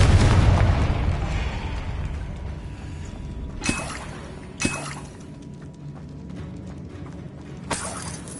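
Confringo fire spell blasts in the Hogwarts Legacy video game, two sharp booming bursts a second apart followed later by a third, over a low rumbling game ambience.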